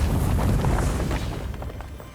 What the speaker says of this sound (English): Quick grenade.